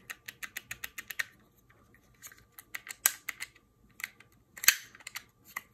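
Rapid runs of crisp plastic clicks come from the button paddles of a Strikepack attachment on a PS4 controller, pressed close up in quick bursts with short pauses and a few sharper, louder snaps.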